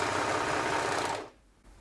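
A Janome AirThread 2000D overlocker runs at a steady fast stitching whir at standard settings, close and loud, then stops abruptly partway through with only faint room noise after.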